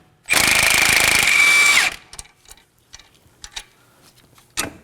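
A power tool spins off a sway bar link nut on a Kia Sorento, a loud, rapid rattling burst of about a second and a half, followed by scattered light metallic clicks and taps as the part is handled.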